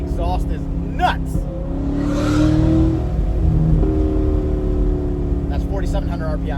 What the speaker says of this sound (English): when you're just going wide open throttle, this thing screams